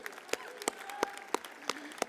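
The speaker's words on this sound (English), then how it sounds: "give yourselves a round of applause" Scattered applause at a university commencement ceremony, a handful of distinct, evenly spaced claps heard fairly faintly, with a voice faintly underneath.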